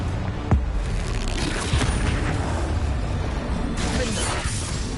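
Loud, dense crackling blasts from the Confringo spell in Hogwarts Legacy rumble continuously, with sharp bursts near the start and toward the end, no voices over them.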